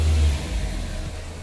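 Chevy Spark engine revving steadily during a transmission test, a close, continuous mid-pitched engine drone held briefly with no speech.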